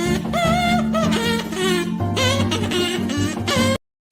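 A buzzy, nasal kazoo plays a wavering tune over a steady backing beat and bass, loud and close, then stops abruptly.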